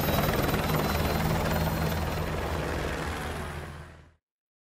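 A military helicopter in Call of Duty Modern Warfare 2 drones with steady thumping rotor noise, loud and close, then cuts off abruptly near the end.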